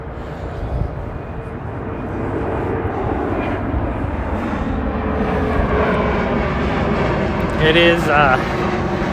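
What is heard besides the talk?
airplane coming in to land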